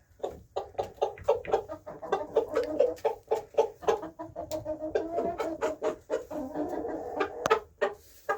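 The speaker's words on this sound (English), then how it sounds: "One cockerel, 4 hens." One cockerel and four hens cluck busily and almost continuously nearby, their short rhythmic calls overlapping with the occasional sharper, louder note.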